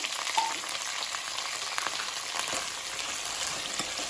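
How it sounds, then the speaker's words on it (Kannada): Cut cucumber pieces frying in a spluttering tempering for sambar, a steady dense sizzle with scattered small pops and crackles, close and continuous throughout. "ಒಗ್ಗರಣೆ ಸಿಡಿತಿದ್ದಾಗೆ ಇದಕ್ಕೆ ಕಟ್ ಮಾಡ್ಕೊಂಡಿರುವಂತಹ ಮುಗೆಕಾಯಿಯ ಹುಳುಗಳನ್ನು ಸೇರಿಸ್ಕೊಳ್ತಾ ಇದ್ದೇನೆ"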